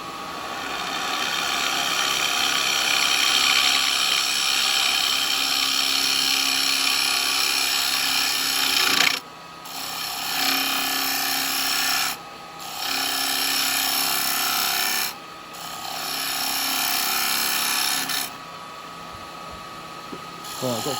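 Spalted beech bowl being turned on a lathe with a bowl gouge, a loud continuous whirring hum with scraping cut noise, broken by a few brief pauses.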